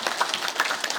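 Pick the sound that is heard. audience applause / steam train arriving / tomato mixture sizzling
audience applause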